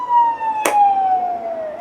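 A steady wailing siren sounds alone, its tone sliding slowly downward with a brief sharp burst partway through.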